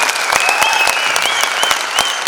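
Loud audience applause at a Goonj Mega Show on stage in Raipur, dense steady clapping from a large crowd with a few sharper individual claps, lasting throughout with no voices over it.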